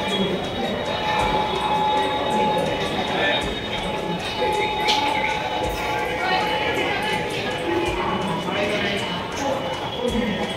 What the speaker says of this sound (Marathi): वडोदरा स्टेशनच्या बाहेर निघालेले.